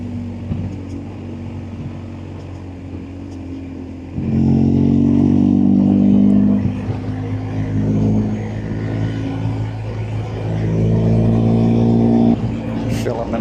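BMW motorcycle carrying two riders along a road, a steady low engine drone with wind roar that swells louder partway through, shifting pitch as it pulls, and voices talking over it.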